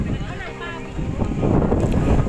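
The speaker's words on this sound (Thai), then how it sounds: "โอ้ยไม่นิดแล้วค่ะ ลมแรงมาก" Strong wind gusts across a flower farm in Roi Et province, buffeting the microphone with a low rumbling roar that builds toward the end, while someone talks over it.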